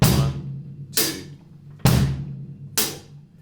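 Close, loud drum kit groove: steady hi-hat quarter notes with a bass drum on beats 1 and 3, four evenly spaced hits ringing out with no voices.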